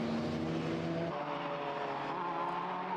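A Ford Capri race car engine howls steadily at Oulton Park, a loud, sustained high-revving drone that shifts pitch partway through as the car runs hard on track.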